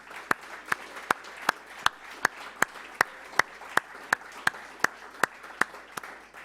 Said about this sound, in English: I'd just like to ask for a round of applause for Mark and his team.